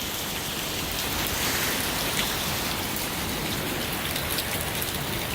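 Steady, dense rain patters on the roof of an old, long-abandoned shelter in a remote spot, a continuous close hiss of drops with no pauses and no voices.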